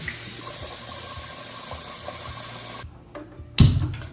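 Water runs steadily into a pressure cooker holding one and a half glasses of rice, a close, even pouring stream that stops abruptly near the end and is followed by a brief knock.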